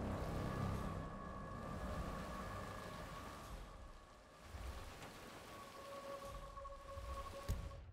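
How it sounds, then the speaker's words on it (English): Steady rain falls throughout a video game scene, a dense even hiss with faint sustained tones running beneath it and one sharp tap near the end. No one speaks. "I'm never going out in the rain again."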